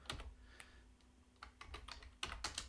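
Quiet, close typing on a computer keyboard while entering code, with irregular bursts of key clicks and a few louder taps near the end, no voices.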